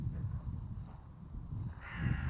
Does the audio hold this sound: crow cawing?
yes